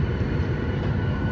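The cabin of a Southwest airliner waits before takeoff, filled with a loud, steady broadband hum of engines and air systems and no talking.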